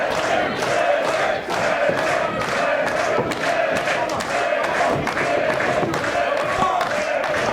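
A packed crowd at an independent professional wrestling show roars and cheers after a suplex and counter, a continuous wash of shouting and clapping with sharper yells poking through, loud and sustained throughout.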